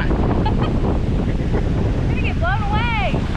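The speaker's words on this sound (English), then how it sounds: "it's just windy. Very windy." Strong wind on a Riviera Maya beach roars steadily and loudly across the microphone, with surf beneath and a person's voice rising briefly toward the end.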